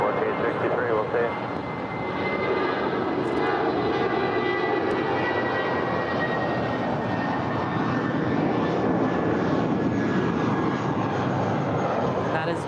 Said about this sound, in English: That is JetBlue 1463 off to San Jose del Cabo. It's an A320.